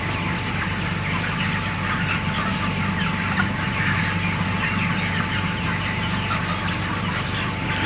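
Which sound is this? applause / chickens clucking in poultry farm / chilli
chickens clucking in poultry farm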